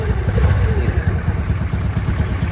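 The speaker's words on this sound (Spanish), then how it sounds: "ya la moto se sintió que esta que se apaga" A Honda Navi Adventure 2024 motorcycle engine idles unevenly close by, its low pulsing chug sputtering and dipping as though about to stall during carburetor adjustment.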